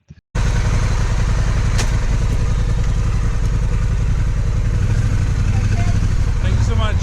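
A motorcycle being ridden toward a campsite on a touring trip through England roars close and loud, a steady engine drone with rumbling wind noise that continues unbroken after a brief opening blip.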